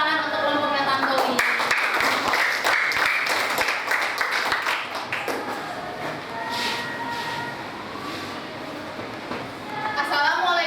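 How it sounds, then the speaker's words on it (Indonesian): Classmates applaud a student group in a school classroom, scattered claps mixing with chatter and voices through most of the stretch. "Oke, silahkan tepuk tangan untuk kelompoknya Tantowi"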